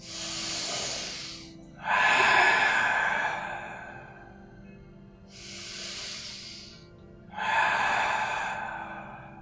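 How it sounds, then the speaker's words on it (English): Slow, deep breaths during a yoga strap stretch, each long inhale followed by a longer airy exhale, heard close and alone in two full cycles. "Take a deep breath in, exhale"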